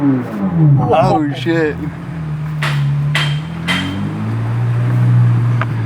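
A 2023 Chevrolet Corvette Z06 sits in neutral while its engine is revved. A steady, deep drone swells and climbs toward the end, with a few sharp knocks and a short burst of voices near the start.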